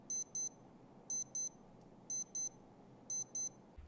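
A Casio A158W digital watch alarm sounds in four evenly spaced pairs of sharp high beeps, loud and close against a faint room hiss.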